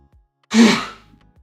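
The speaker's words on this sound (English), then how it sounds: "I had a sneeze out of nowhere." A single sudden sneeze bursts out close to the microphone, a sharp broadband blast that fades over about half a second, with near silence before and after.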